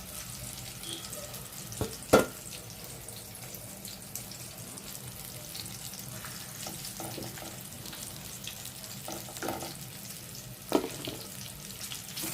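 Fish pieces fry in hot oil in a pan, a continuous hissing sizzle with a couple of brief utensil knocks, with no talking.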